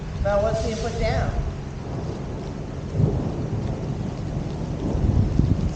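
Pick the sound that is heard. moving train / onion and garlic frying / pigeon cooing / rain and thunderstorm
rain and thunderstorm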